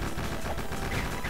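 Rapid gunfire fills the GundeadliGne shooter game as missiles are shot down, a dense, steady stream of loud overlapping shots lasting just over a second with no break.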